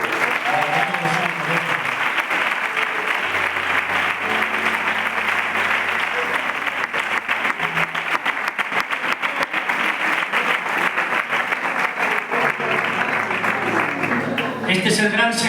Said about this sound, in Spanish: ¿Por qué no le ofreces un aplauso?